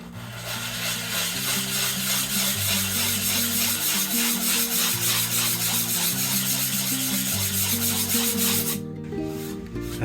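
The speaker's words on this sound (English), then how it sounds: "So I've got this diamond pad here, which is what I use for sharpening knives and my chisels and whatnot." A diamond sharpening pad rubbed steadily back and forth along the edge of old window glass to grind a bevel, a continuous close gritty rasp with a low rhythmic hum beneath.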